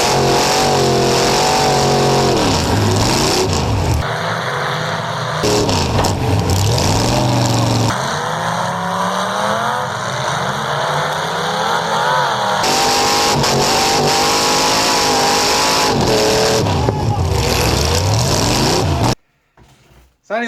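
A school race car's engine screams loudly and near, repeatedly revving up and shifting through gears in rising and falling sweeps, with short drops between pulls, cutting off abruptly at the end.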